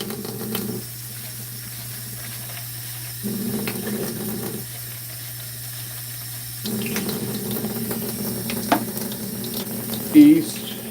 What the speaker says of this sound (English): We gotta rinse the cups too.